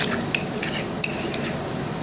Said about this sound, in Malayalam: ശരിക്കൊന്ന് മിക്സ് ചെയ്ത് കൊടുക്കണം